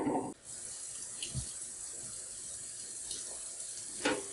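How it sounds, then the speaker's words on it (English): Hot water running from a tap while a removable part of a Necta Krea Touch coffee machine is rinsed, a steady close splashing stream with a few clinks of the part against the sink. "wash it using hot water, and if need be, you can use a soft soap"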